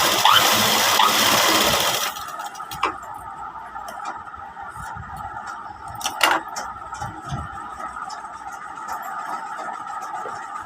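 A sewing machine stitches a double-folded hook strip on a 30-inch blouse, running loud and continuous for about two seconds, then dropping to quieter mechanical ticks and clicks with an occasional louder knock, close by.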